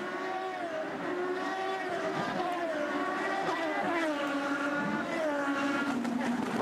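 IndyCar race cars at speed on the Baltimore street circuit, engines whining up and down through gear changes as several cars pass in quick succession, with a commentator talking over the loud, steady racing drone.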